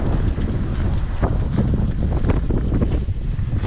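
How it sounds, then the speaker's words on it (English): Wind rushes past while someone rides a Windone S14 e-bike outdoors, a steady, loud, low roar buffeting the microphone continuously with no other sound standing out. "It's a little windy out here today."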